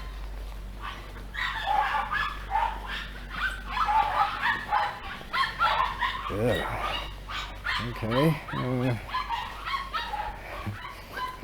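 Dogs bark, yip and whimper in a video game set among Buddhist antiques and Shinto shrines, several sharp barks standing out near the end under a steady low game hum, while someone talks over much of it.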